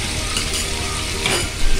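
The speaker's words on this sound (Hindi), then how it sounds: "ये लाइट से मैंने फ्राई करना है" Prawns fry with ginger garlic paste in a karahi, giving a steady, dense sizzle with occasional stirring scrapes, close and loud.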